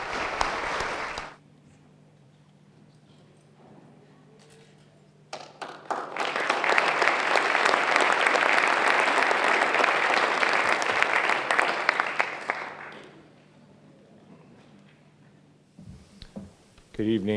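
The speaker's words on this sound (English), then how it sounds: "Let's give a round of applause to the Defiance Merchants Association." A crowd at the Partners for Progress 2015 partnership celebration gives the Defiance Merchants Association a sustained round of clapping lasting several seconds, rising suddenly and fading out, with quiet room noise before and after.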